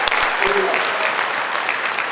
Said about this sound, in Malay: Kita bagi tepukan kepada dia.